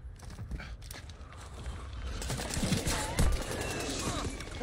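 Bursts of rapid gunfire from a shooter video game, crackling volleys growing denser and louder toward the end, with heavier thuds mixed in.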